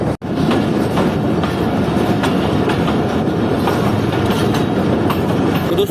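Fareed Express passenger train rolls along the railway track, a loud continuous rumble with repeated clickety-clack wheel beats heard from on board, just after a brief sharp knock at the start, with no voices.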